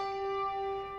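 A church memorial bell tolls in remembrance of lives lost to AIDS on World AIDS Day, one long sustained ringing strike with steady bright overtones humming throughout, loud and close with no other sound.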